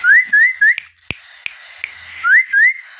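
A short rising whistle trained on cockatiel chicks repeats in clear pairs at the start and end, with a few sharp clicks between them and no voices.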